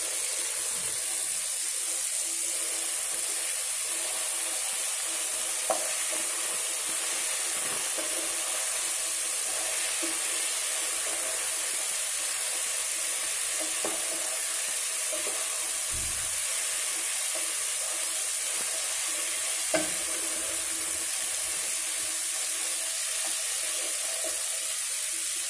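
Jute leaves (junumulu) sizzling in a pan for a brinjal curry, a continuous soft frying hiss with a few faint clicks and no talking.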